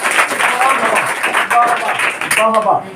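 Students in a coaching classroom clap after a math answer, a lively burst of clapping mixed with a teacher's voice speaking over it, with a brief dip partway through.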